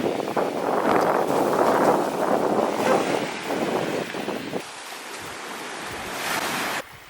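Sea waves wash onto the coast in a continuous surging roar mixed with wind buffeting, loud for the first few seconds before easing to a softer, quieter rush, with no voices.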